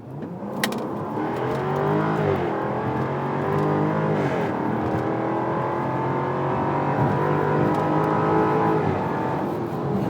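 A 2023 Jaguar F-Type P450 R-Dynamic AWD coupé engine revs hard and loud, its pitch sweeping up and down through repeated surges before settling into a sustained high roar.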